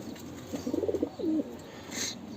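Lotan pigeons cooing inside a loft: two close, soft, throaty coo phrases in quick succession, with faint background noise and a brief higher rustle near the end.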